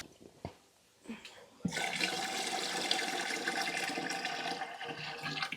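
Homemade chicken bone broth pours steadily into a canning jar, a continuous close liquid splash and gurgle that starts abruptly after a quiet moment and runs without a break to the end.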